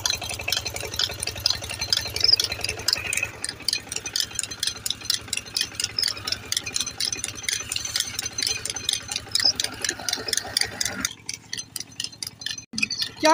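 Diesel engine driving a village tubewell water pump by belt chugs at a steady rhythmic idle with rattling knocks, then the sound thins out toward the end.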